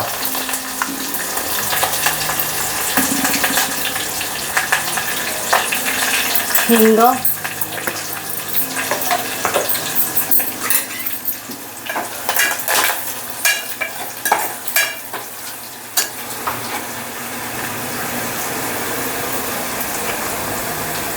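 Cumin seeds, curry leaves and garlic sizzle and crackle in hot oil in a home kitchen, with continuous frying hiss, stirring and utensil scrapes, and someone talking briefly over it.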